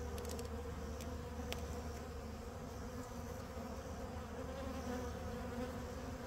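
Honeybees drone around an open hive in a steady, soft, layered buzz, with a few brief louder passes of individual bees close by and no talking.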